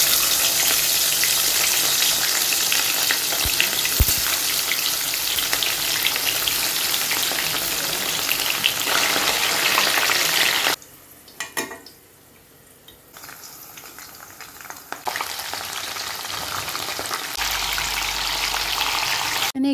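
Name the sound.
frying mixed vegetables in a pan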